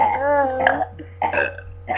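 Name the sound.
burp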